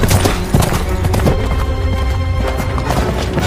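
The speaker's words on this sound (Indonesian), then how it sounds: "Mereka menghabiskan hari di kereta kuda" Hooves clip-clop steadily and loudly in a quick rhythm, as a horse-drawn carriage rolls along with rattling and clattering throughout.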